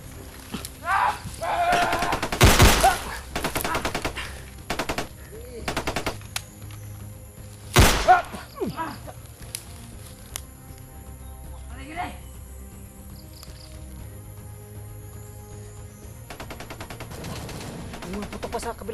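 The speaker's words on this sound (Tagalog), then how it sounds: "Mga putok pa sa kabilang bundok," Bursts of video game gunfire crackle in the distance, with a couple of louder nearby shots, while people talk intermittently over the action.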